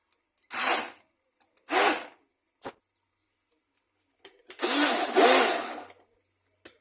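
An electric mixer whirs through carrot cake batter in short bursts: two brief runs, a tiny blip, then a longer, louder spell of buzzing, with silence between.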